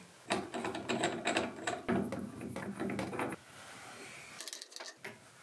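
A torque wrench ratchets as it tightens a quick connect adapter onto a heat pump line set, a run of close, sharp clicking strokes for about three seconds followed by quieter handling and a final click.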